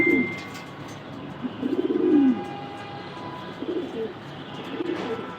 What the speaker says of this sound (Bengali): কিছু কবুতর আনা হয়েছে লফটে